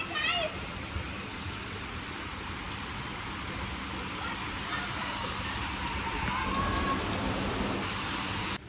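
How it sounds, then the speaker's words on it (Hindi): Steady, dense rain hisses throughout, a continuous wash of falling water with faint voices and a few thin high tones over it. "इतनी तेज़ बारिश यहाँ पे हो रही है।"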